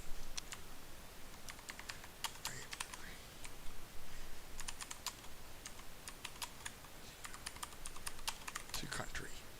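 Code being typed on a computer keyboard, bursts of close, crisp key clicks in uneven clusters with short pauses between them.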